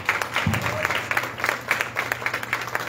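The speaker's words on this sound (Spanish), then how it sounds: "Un aplauso para él, por favor." A modest crowd applauds a sponsor at a Miss Wheelchair Tamaulipas coronation ceremony, with individual claps distinct in a steady, fairly close rhythm.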